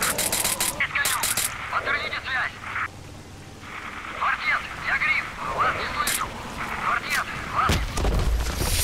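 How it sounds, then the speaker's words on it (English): Grenade blast in a first-person shooter, arriving as a heavy boom near the end among scattered gunfire and crackling battle noise, while players talk over the action. "Fuck this shit, another grenade."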